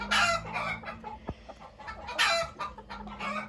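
Marans chickens, including a rooster, cluck close up in several bright, uneven bursts, the loudest near the start and another past the middle, over a low hum with no talking.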